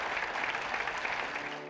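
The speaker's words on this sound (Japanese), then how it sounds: "その思いが届いた会場は盛大な拍手で包まれました。" A concert hall audience breaks into dense, sustained applause after students sing for Tohoku disaster recovery. The clapping is full and steady and thins slightly at the very end.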